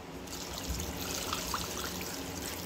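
Water pours steadily into a pot holding about 1.5 kg of raw chicken for Balochi chicken tikka, a continuous close trickling splash with no talk over it.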